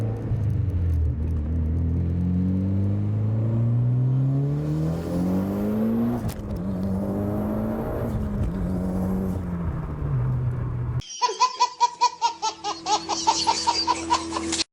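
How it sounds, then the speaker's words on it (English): A tuned Mitsubishi Evo X GT Spec with a 3582R turbo pulls hard in second gear onto a freeway, engine note climbing steadily in pitch from inside the car, dropping at a shift, then a loud fluttering, chattering burst near the end. "So I'm gonna do a little pull right here, a little second gear hit, getting on the freeway."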